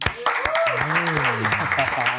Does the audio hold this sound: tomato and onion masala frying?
no